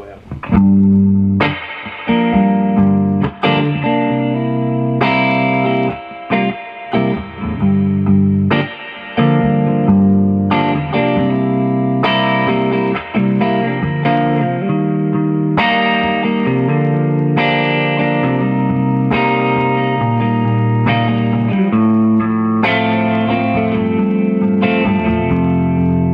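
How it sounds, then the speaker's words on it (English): Electric guitar played through the tube-driven spring reverb of a Vox Tony Bruno TB35C1 amp, deep and splashy, chords and notes ringing out with long, wet tails, loud and continuous. "Lovely, lush, surfy reverb, tube driven."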